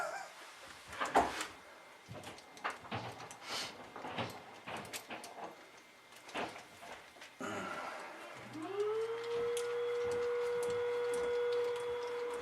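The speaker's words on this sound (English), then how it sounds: "Of course, the wife picks right now to vacuum the floor." Scattered clicks and taps give way to a vacuum cleaner motor starting up, winding up into a steady, droning whine that continues to the end.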